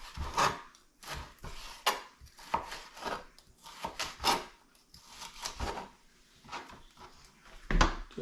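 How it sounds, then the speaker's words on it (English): A kitchen knife slices a homemade pizza topping into thin pieces on a cutting board: a series of crisp, close chopping cuts at an uneven rhythm, about a dozen strokes with short pauses between them. "I'm going to slice it in thin slices so that it'll cook easily"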